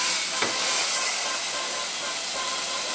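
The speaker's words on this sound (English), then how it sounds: "I'm just going to sear the sides and then we can transfer it to our crock pot." Barbacoa meat searing in a hot pan, a steady sizzling hiss that holds throughout at an even level with no talking.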